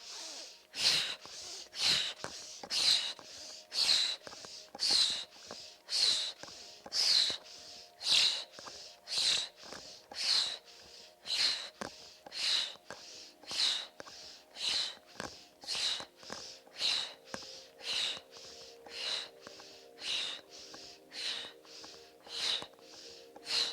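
Forceful pranayama breaths during an intermediate yoga session: a long, steady series of quick, sharp nasal exhalations in even rhythm, close and clear with no talking.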